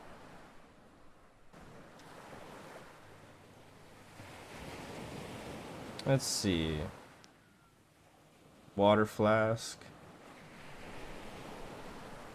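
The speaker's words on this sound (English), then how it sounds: "those wave sounds are nice. Calming." Steady wave wash and surf noise rolling throughout in the video game Dagon, with brief bursts of speech-like sound and a quiet voice speaking over it.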